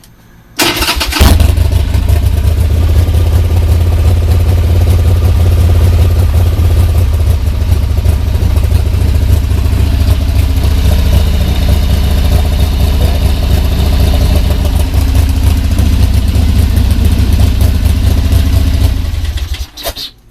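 A Harley Sportster motorcycle engine cranks and catches after a short pause, then settles into a loud, steady, low rumbling idle that runs for nearly twenty seconds before cutting off.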